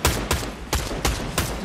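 Rapid gunfire in a shooter video game, five sharp loud shots at a steady rhythm close by, each with a hard crack and brief tail, no talking.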